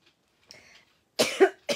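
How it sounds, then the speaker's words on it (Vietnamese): A person coughs a few times, a faint weak cough followed by a sharp louder burst of coughing, close and alone. "Cái này á, khi mà ho như vậy nè"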